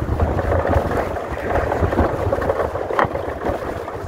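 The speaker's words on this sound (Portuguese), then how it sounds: "Ó o vento, e ainda tá ventando forte, viu?" Strong wind buffets the microphone while riding a Shineray Citycoco electric scooter, a dense continuous low rumble and roar throughout, loud and unbroken, with no speech.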